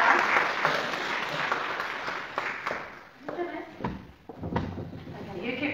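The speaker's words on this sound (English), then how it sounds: "Can we give them a round of applause, please" An audience at a Sunday all-age Holy Communion church service claps in a burst of applause that fades into scattered claps, with voices talking over and around it indoors.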